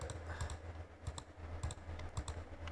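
Several quick key clicks on a computer keyboard, like a Ctrl+Z shortcut tapped in a few short pairs over a low steady hum, fairly close and moderately quiet.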